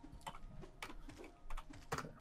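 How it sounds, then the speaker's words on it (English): A few scattered keystrokes on a computer keyboard, faint and close, coming in short irregular bursts of soft clicks separated by quiet pauses. "I'm shit typing today."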